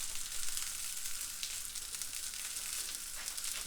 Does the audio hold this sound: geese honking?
no